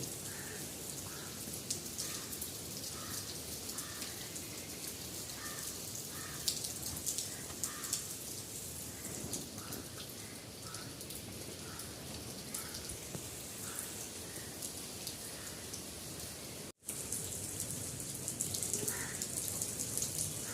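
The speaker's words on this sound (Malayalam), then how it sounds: "നല്ല മഴയൊക്കെ പെയ്യുന്നുണ്ട്" Steady heavy rain pours down outdoors, a dense continuous hiss with scattered drops pattering on surfaces, holding at a constant level throughout with one brief dropout near the end.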